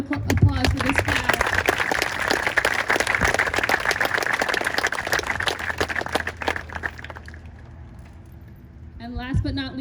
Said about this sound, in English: One more round of applause for this class